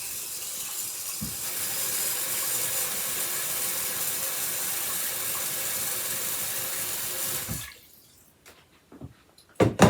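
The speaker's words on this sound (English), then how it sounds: "while the water's filling up" Steady rushing of water pouring into a pot of rice, a continuous hiss for several seconds before it stops, followed by a few faint clinks and knocks.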